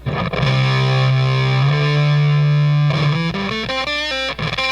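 An electric guitar through a Monkey Riot distortion pedal set bright and low gain plays a sustained chord and then a run of single notes, loud and close with no voices.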